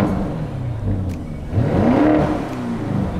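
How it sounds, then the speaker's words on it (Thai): A Lamborghini Urus turbocharged engine revs up and falls back, a deep, close, rising engine roar with a whir on top, heard clearly throughout. "ผมลองเร่งเครื่องดูนะฮะ"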